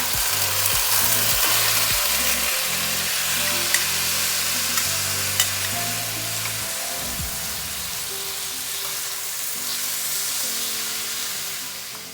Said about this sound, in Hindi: अब मैं इसमें डाल दूंगी 3 कप्स ऑफ राइस।